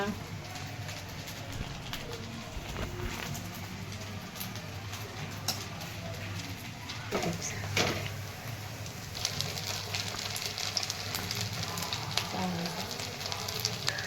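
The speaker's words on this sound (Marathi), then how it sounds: "पाहू शकतात हे वडे कसे तळते" Sabudana vadas fry in hot oil with a continuous crackling sizzle. Birds chirp and coo in the background, and a person talks over it.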